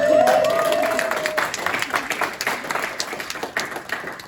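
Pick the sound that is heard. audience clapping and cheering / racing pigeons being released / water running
audience clapping and cheering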